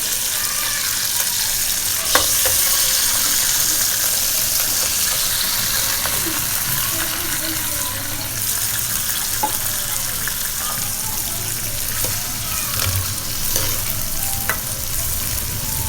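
Onions sizzle steadily in hot oil while being lightly browned for a ridge gourd curry, a constant crackling hiss with occasional clinks of stirring, close and continuous.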